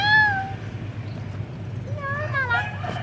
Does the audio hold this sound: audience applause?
no